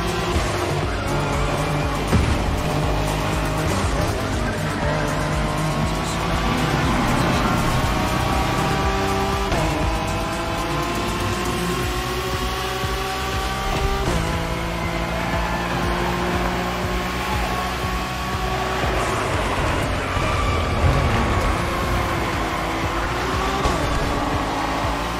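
Race cars, including Acura NSX GT3s, drive a track with long straights and three difficult turns in The Crew Motorfest, giving a loud, continuous engine roar with rising and falling revs and occasional tire squeal throughout.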